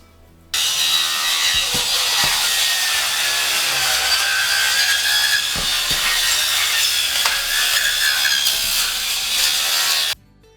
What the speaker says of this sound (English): before you saw the grates off the rim joist